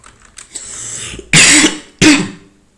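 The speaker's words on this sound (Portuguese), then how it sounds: "Perdão pela tosse, eu tô meio gripado" Two harsh, loud coughs in quick succession from a man with a cold, close to the listener, following some faint clicking and shuffling sounds.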